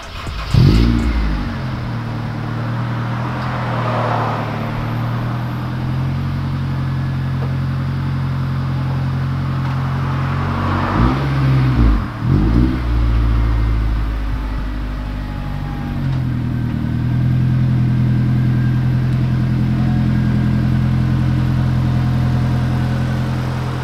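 A Honda with a J's Racing exhaust idles and is blipped after a start, a steady low engine drone with a few sharp revs rising and falling, up close and with no talking.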